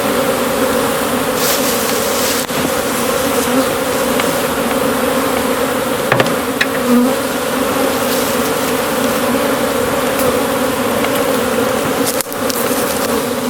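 Honeybees buzz steadily around a hive in a spring apiary, a dense, continuous drone of many insects close by, with a few faint knocks and no talking.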